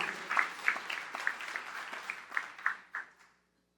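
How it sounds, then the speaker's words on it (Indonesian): Warm audience applause fills a church, a dense run of clapping from the congregation with a few louder claps standing out, continuing for a few seconds before dying away. "Tepuk tangan yang paling meriah buat Yesus Tuhan."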